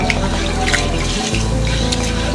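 Lentils (dal, including masoor) are rinsed in water in a kitchen, with close, loud sloshing and dripping liquid.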